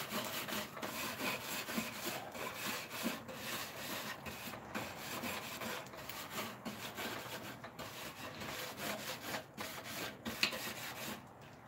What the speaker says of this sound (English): So, scrape off my grill.